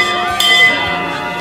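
A clock bell chimes the quarter on New Year's Eve, giving a single bright ringing strike that hangs and decays, with faint crowd noise underneath.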